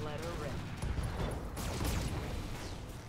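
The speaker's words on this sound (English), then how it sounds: "And we'll fire everything on him." Mech weapons fire together in the Roguetech video game, producing a dense roar of overlapping blasts and booms that keeps going without a break, heard fairly quietly.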